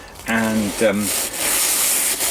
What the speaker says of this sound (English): to get in there with a little sort of scrubbing brush like this is ideal